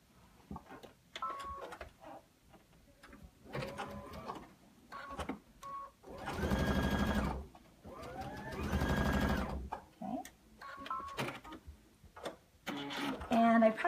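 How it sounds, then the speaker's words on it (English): A sewing machine stitches fabric binding along a fold line in bursts of fast mechanical whirring, with a person talking between the runs. "then you sew directly on that fold line"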